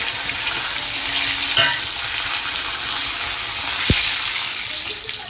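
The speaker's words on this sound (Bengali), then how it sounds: "সবার প্রথমে দিয়ে দেবো আমরা গোটা গরম মশলা তারপরে দিয়ে দেবো জিরে তারপরে দেবো শুকনো লঙ্কা তেজপাতা" Whole garam masala, cumin seeds, dried chili and bay leaf fry in hot oil with a loud, dense, continuous crackle and sizzle, broken by a single soft knock.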